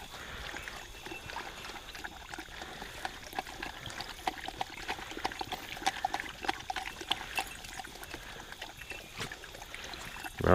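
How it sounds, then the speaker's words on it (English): Water trickling and pouring steadily for a dog to drink, a soft continuous liquid wash close by with small splashes, ending in a louder burst. "Get some water, Brandy."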